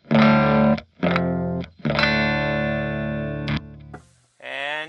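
An electric guitar played through a Fender Twin amplifier on its vintage channel, loud, with several sustained, slightly overdriven chords and short gaps between them, ending with a brief, brighter strum.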